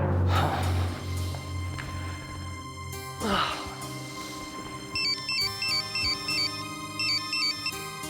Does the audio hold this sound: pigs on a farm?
no